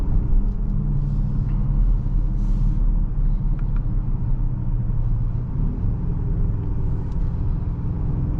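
A 2024 BMW X5 M60i cruising on the road, its engine giving a steady low rumble mixed with tyre and road noise that stays constant throughout, with no talking.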